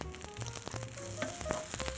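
Oil sizzles and crackles in a pan as coarsely chopped parsley fries, with a few clinks and stirring scrapes mixed in.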